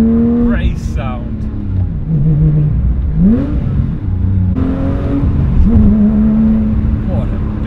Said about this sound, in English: Oh, would you listen to that? That is a proper race sound.